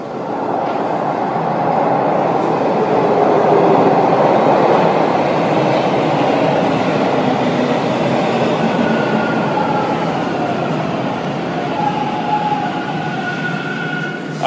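A train rumbles past close by for a sustained stretch, a loud steady roar of wheels on rails with occasional metallic squeals.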